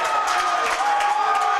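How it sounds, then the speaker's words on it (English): A gymnasium crowd at a college basketball game between Shawnee State and Alice Lloyd jeers loudly at a player, a dense, steady wall of many voices booing without pause for the whole brief stretch. "They have booed him out of the gymnasium."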